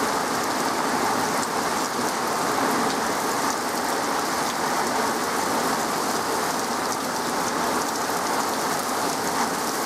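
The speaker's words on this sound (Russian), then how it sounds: "Но, к счастью, только дождик." Steady heavy rain pours down continuously, a dense hiss of drops with no voices, loud and unbroken throughout.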